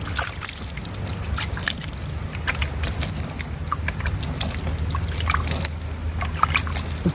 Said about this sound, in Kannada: ಒಂದು ಸ್ವಲ್ಪ ಲೈಟಾಗಿ ಹಾಕೊಳ್ತೀನಿ ನೀರು